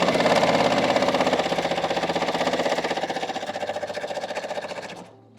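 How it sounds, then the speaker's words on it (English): A sewing machine chain pieces quilt blocks, a fast, steady mechanical chatter of stitching that runs evenly for several seconds, then stops abruptly near the end. "Now I'm going to flip it around and sew down this other side."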